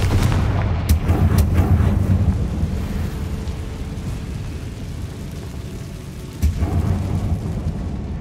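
The Confringo spell in Hogwarts Legacy goes off as a booming explosion, a sharp blast near the start followed by rumbling decay and a second burst later, with no talking.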